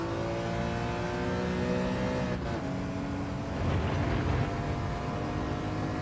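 Race car engine in the Gran Turismo 7 video game, a loud continuous droning roar with steady harmonic whine that dips briefly and then builds again as the car accelerates, no talk.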